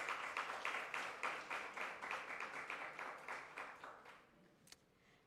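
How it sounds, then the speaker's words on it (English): An audience at a women's business event applauds a speaker, a clear run of clapping that gradually fades to silence near the end. "Can we give our sister a round of applause?"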